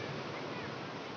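Steady broadband rush of ocean surf on Karapyak Beach, Pangandaran, West Java, a continuous roar of waves with no distinct breaks, fairly quiet and distant.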